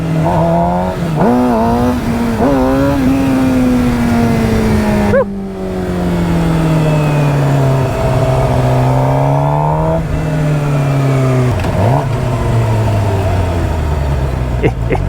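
Motorcycle engine revving hard through a wheelie, a loud continuous whine with pitch sweeping up and easing down several times, close and steady throughout, with constant wind noise over it.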